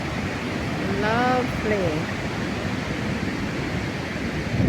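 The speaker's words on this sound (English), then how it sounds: "There's the river and the waterfalls." Kaieteur Falls in Guyana's Amazon roars as a steady, broadband wash of falling water and river flow, loud and continuous throughout, while a voice speaks briefly over it.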